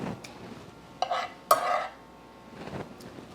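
Pasta with pepperoncini stirred in a pan, with a few scraping, clattering strokes in separate bursts over a quiet background.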